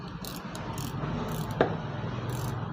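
A disc brake caliper piston puller on a bike being tightened gives a steady metallic mechanical grind and ratcheting with one sharper click, close and continuous, with no voice over it.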